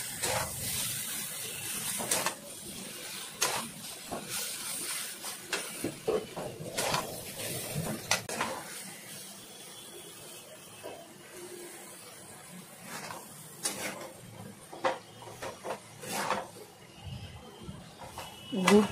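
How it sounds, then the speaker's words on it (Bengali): Jaggery for raw mango pickle is stirred in a metal pan, giving soft, uneven scraping and clinking with light hiss, fairly faint and close, with no one talking. "এরপর আমি গুড়টাকে নাড়াচাড়া করে ভালো করে নাড়িয়ে নেব।"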